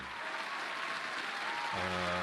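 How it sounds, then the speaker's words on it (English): Applause on a live stream, a steady wash of clapping that fills the whole moment, with a voice starting up near the end. "No more clapping."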